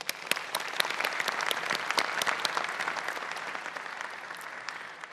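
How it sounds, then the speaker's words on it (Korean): An audience applauds at the rollout ceremony for the KF-21 Boramae fighter jet at the KAI Sacheon plant. Dense clapping from a large crowd holds steady without voices, then slowly thins toward the end. "함께해 주신 모든 분들께 큰 박수 부탁드리겠습니다."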